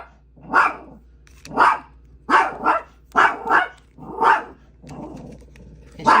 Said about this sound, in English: now he's barking at Willow, the dog upstairs.